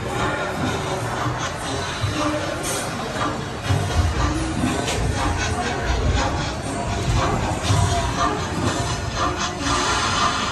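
The High in the Sky Seuss Trolley Train Ride at Islands of Adventure, Universal Orlando, rumbles and clatters along steadily with a crowd murmuring in the background, a continuous busy mix.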